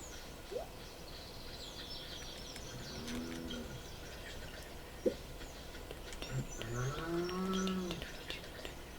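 Cattle low on a farm, several drawn-out moos at moderate distance rising over a steady bed of insect buzz and outdoor ambience, with a sharp knock partway through.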